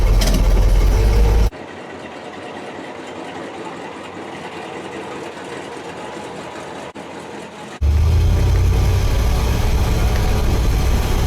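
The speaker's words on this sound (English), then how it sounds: "Shifted once. Shifted twice. We have all 3 gears." A Chevrolet Impala with a newly installed transmission runs steadily, its low engine drone dropping quieter for a stretch as the gears shift, then surging loud again near the end; no talking.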